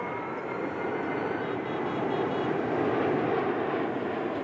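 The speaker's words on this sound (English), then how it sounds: "flying this Lockheed C-130 air tanker right now" A Lockheed C-130 air tanker flying over a wildfire produces a steady, loud propeller engine drone that holds without a break throughout.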